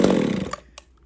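Small Japanese chainsaw engine running briefly, a loud, near buzzing drone that cuts off within half a second, followed by a couple of faint knocks.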